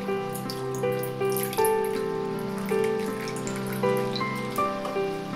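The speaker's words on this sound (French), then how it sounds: "Dans un autre récipient, versez l'eau minérale." Mineral water pours into a container, a steady bubbling, splashing stream with a shifting ringing pitch as it fills, loud and close with no voices.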